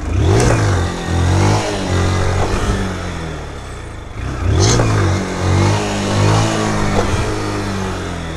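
A 2023 Fanzika 160 motorcycle engine revs hard and close for a wheelie, surging loudly in repeated throttle pulls with a brief dip in the middle, no voices present.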